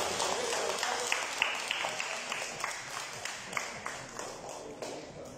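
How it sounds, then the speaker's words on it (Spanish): Farewell applause for a departing friend at a municipal cultural centre class, a moderate crowd clapping steadily with scattered sharper claps, at middling distance, with faint voices mixed underneath. "Un aplauso más de despedida a nuestra amiga."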